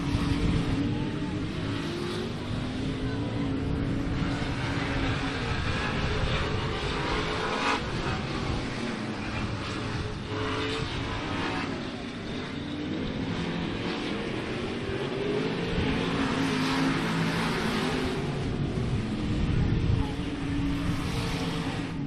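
Race cars roaring past on a track during a televised race, a dense continuous engine drone that swells and fades slightly, loud and sustained throughout.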